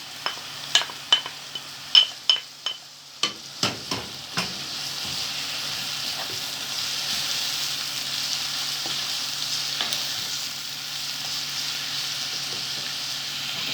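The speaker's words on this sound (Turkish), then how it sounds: "Şimdi onları süteleyeceğiz böyle. Havucumuzu koyuyoruz. Onu da süteleyeceğiz." Vegetables with carrot sautéing in a pan for a baked vegetable pasta gratin: a run of sharp stirring clinks and scrapes at the start, then a steady soft sizzle that carries on alone to the end.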